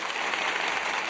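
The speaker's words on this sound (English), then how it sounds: "There's applause." A brief, continuous burst of applause, dense and steady at moderate level for about a second.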